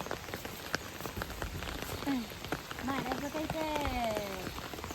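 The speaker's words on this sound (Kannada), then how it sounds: "ಪರವತ್ತಾಗಿ ಹಿಂಗೆ ಮಳೆ ಹಿಡ್ಕೊಬಿಡ್ತು." Steady rain patters on a surface throughout, dense and even, with a brief voice-like tonal call rising midway and no clear talk.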